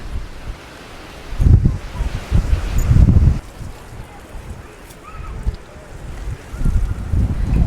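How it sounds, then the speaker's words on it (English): Strong Storm Benjamin winds blowing across the Mallorca coast, hitting the microphone in heavy roaring gusts that rise and fall over a constant rushing background. "we're heading on into the wind once again"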